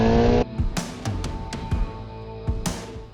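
A BMW R 1300 RS motorcycle engine pulls in second gear from just over 3,000 RPM, its droning tone strong at first and then easing under a series of sharp clicks and knocks.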